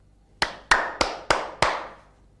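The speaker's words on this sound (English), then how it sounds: "Clap your hands." Hands clap five times, sharp and evenly spaced, each crack ringing briefly. The claps are close and clear against near silence.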